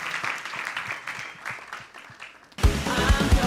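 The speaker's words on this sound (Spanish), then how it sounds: "Le damos un fuerte aplauso" Audience applause at a youth congress in a large hall, a steady wash of clapping that swells sharply louder near the end, with no voices over it.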